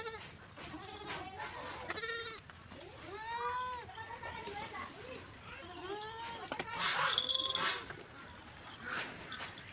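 Several goats bleating close by in repeated wavering calls, overlapping at times, with rustling and a louder stretch of bleats toward the end.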